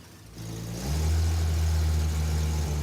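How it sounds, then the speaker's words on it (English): Car engine in a garage, a fault with ignition timing stuck at idle advance, rising from a steady idle into a sustained rev that holds a strong, even drone, close and loud, with no talking. "Rev it up."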